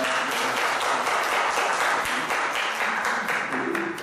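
A church congregation applauds in thanks during a Korean Baptist service, a thick, continuous wash of clapping that fills the whole stretch with no talking over it.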